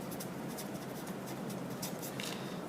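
A pen scratches steadily across paper while someone writes words on an exam practice sheet, a soft continuous rasp with small bursts of strokes, close and fairly quiet, with no voice.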